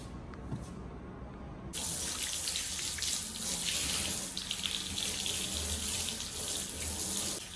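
A tap runs into a sink while blue-dyed hair is rinsed at home, a soft trickle that suddenly swells into a strong, steady hiss of water that continues to the end, with no talk.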